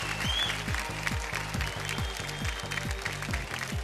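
Studio audience applause on the set of the Kaun Banega Crorepati quiz show: a dense, steady wash of many hands clapping, sustained at an even level throughout with no voices over it.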